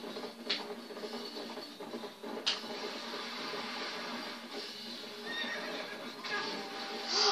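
A horse whinnies and snorts while hooves clip-clop steadily along in Zelda: Twilight Princess HD, with a couple of sharp clicks and a faint game-like backdrop throughout.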